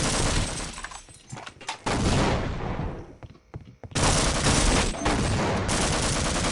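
Loud, sustained bursts of M249 machine gun fire in Half-Life: Opposing Force, dense rapid shots, a brief lull in the middle, then heavy continuous firing resumes, close and harsh.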